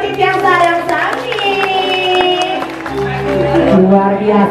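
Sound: audience applause at calonarang performance

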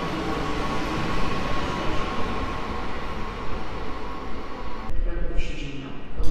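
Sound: Koleje Śląskie Elf electric train departing the station

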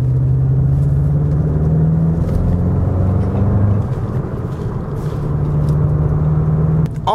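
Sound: Volkswagen GLI sports sedan driving on road

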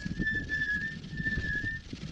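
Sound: brakes whistling on mountain road descent

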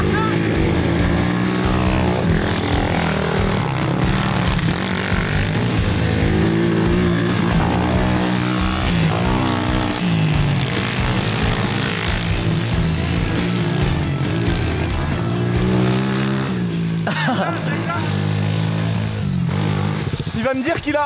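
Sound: YCF pit bike engine running

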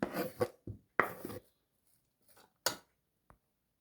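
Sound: knife cutting an onion on a board

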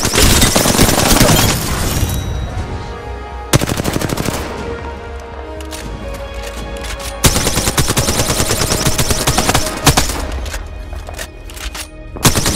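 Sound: incoming gunfire in a battle royale video game

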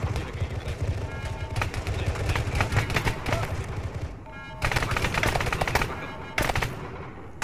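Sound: gunfire in a video game battle

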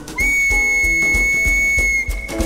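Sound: people whistling cheerfully

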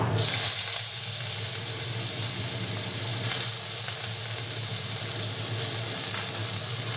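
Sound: sliced onion sizzling in hot oil

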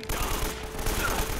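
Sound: gunfire in Uncharted: Drake's Fortune video game

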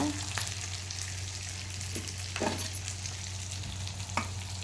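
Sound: ginger-garlic paste added and frying in a pan

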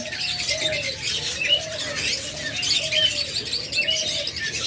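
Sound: pet birds chirping in shop, budgerigars and lovebirds

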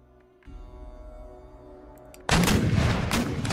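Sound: howitzer artillery firing in Empire: Total War video game

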